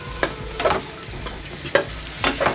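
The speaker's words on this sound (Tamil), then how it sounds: "மண்ணீரலை சேர்த்துட்டு நல்லா வதக்கி கொடுக்கலாம்." Chicken spleen sautéing in a pan with masala over medium heat, heard as a low sizzle broken by several sharp scrapes and knocks of a spatula stirring against the pan.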